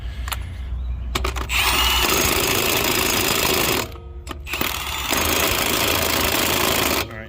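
Impact wrench tightening lug nuts on a Cadillac Escalade wheel during a flat tire change: loud, close, sustained buzzing hammering bursts of a few seconds each, separated by brief pauses.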